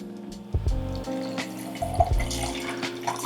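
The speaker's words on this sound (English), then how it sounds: "then I'm gonna pour the drink in" A pineapple coconut margarita is poured into a glass, giving a close, steady liquid stream with a few splashing surges and trickles over about three seconds, with no talking.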